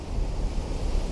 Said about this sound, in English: That there is the South Atlantic Ocean.